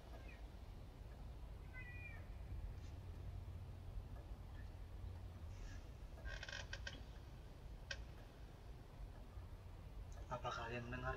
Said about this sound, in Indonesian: Aku mendengar suara kucing.